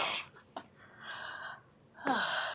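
Heavy, audible breaths during a yoga stretch, with a sharp exhale at the start, a long sustained breath through the middle and another forceful exhale near the end, close and alone.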